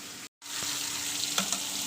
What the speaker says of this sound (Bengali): মাছটা ভাজা হচ্ছে দেখতে পাচ্ছেন